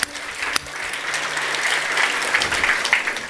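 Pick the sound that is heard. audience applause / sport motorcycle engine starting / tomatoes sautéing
audience applause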